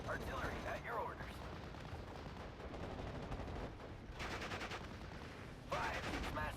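Artillery and gunfire in the World War II strategy game Steel Division: Normandy 44, with a dense rumbling barrage broken by louder bursts of shots and blasts.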